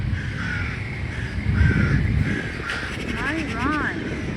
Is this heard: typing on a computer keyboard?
no